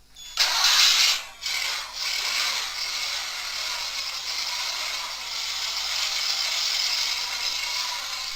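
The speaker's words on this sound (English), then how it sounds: "this is the engine." A Porsche 917 model kit plays its recorded engine sound: a starter whir and revving burst, then a steady, loud, raspy idle that continues without pause.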